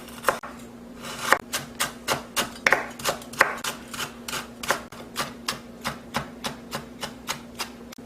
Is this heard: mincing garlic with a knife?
yes